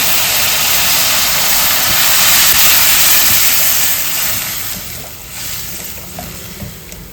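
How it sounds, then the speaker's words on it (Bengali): Milk poured into a hot pan of fried semolina erupts in a loud, rushing hiss and sizzle that holds strong, then gradually quiets toward the end. "এটার মধ্যে এখন আমি দুধটা দিয়ে দিব"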